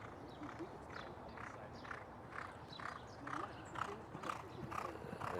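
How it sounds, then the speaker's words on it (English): A racehorse walks past on the Churchill Downs backside, its hooves clip-clopping in a steady, regular rhythm at moderate distance, fairly faint under background noise. "the horse just went by"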